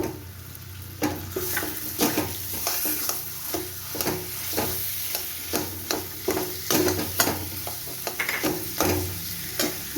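Potato and banana flower fry in spices, sizzling steadily in a pan while a spoon scrapes and stirs in irregular bursts, close up, with no voices.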